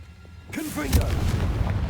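A Confringo explosive spell detonates in Hogwarts Legacy after a brief quiet moment, a loud booming blast with a crackling, rumbling tail that holds to the end.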